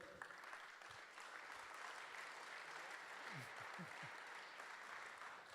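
Applause from an audience at a presentation in Lausanne, welcoming a man named André Georges to the stage, steady and moderately distant clapping with a few low thumps mixed in.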